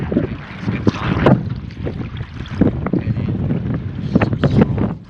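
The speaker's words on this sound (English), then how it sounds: "like a lot of wind has picked up and it's getting real choppy out here" Strong, gusting wind buffets the microphone on a choppy river during kayak fishing from a Hobie Pro Angler 360, with rumbling blasts and water slaps rising and falling unevenly throughout.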